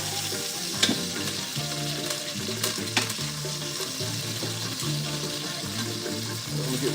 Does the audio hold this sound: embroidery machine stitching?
no